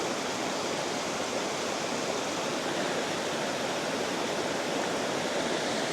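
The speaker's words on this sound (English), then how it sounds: "This is the second spillway" Water rushes over a fishing spillway in a steady, dense roar that stays loud and unbroken for six seconds, with no voices or other sounds above it.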